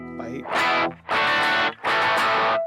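Three thick bursts of heavily distorted electric guitar chugging, loud and close, each block of palm-muted riffing separated by a brief gap.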